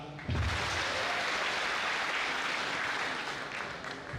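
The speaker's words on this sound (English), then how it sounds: "Give yourselves a clap." Applause from a crowd at a political rally in Kenya, a broad wash of clapping that starts abruptly and holds steady for a few seconds before gradually thinning.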